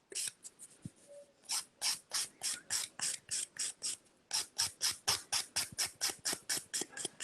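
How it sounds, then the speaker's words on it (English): A nail file works over a HEMA-free gel polish nail surface in quick, close, rhythmic rasping strokes, about three per second, fairly loud and alone. "I'm just filing my surface and fixing my shape"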